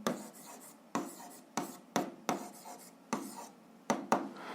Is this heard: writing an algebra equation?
yes